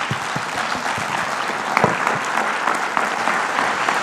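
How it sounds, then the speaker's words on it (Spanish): An audience at a judicial keynote conference applauds a magistrate with steady, dense clapping throughout, full and even in loudness without a break. "les pido por favor le brindemos un fuerte aplauso al magistrado"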